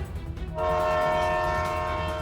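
A train rumbles steadily along the tracks nearby while its horn sounds a loud, sustained tone over the continuous rolling noise.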